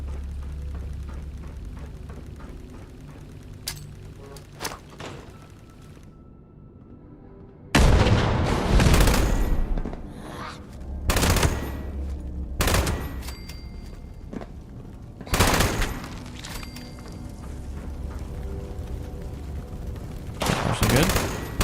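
Gunfire rings out in the online game Fallout 76, several loud bursts and single shots in irregular clusters after a quieter stretch, booming close and sharp over a steady background hum.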